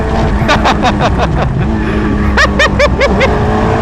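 A Hayabusa-powered race car slides sideways around a track, its motorcycle engine revving in sharp rising and falling bursts. Two clusters of quick throttle blips sound close and loud over a rumbling background.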